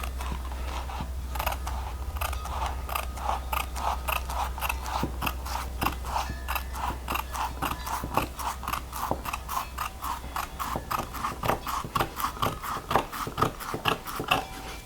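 Door trim panel material being cut with a blade or shears, a fast steady train of crisp snipping clicks, close and alone, over a low constant hum.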